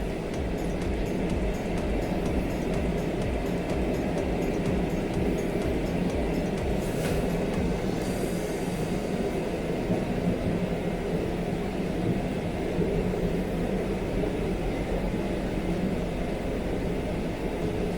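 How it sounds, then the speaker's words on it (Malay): Ativa air conditioner running at fan speed 5, a steady broadband whoosh of blowing air that holds constant throughout at a moderate level, with no voices over it. "Kita pun boleh dengar dah sekarang bunyi aircon tu makin kuat."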